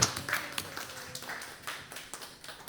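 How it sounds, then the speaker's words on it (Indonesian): Scattered clapping from a small group, soft and uneven, tapering off over a few seconds. "Tepuk tangan buat kita semua."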